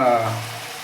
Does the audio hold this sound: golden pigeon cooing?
no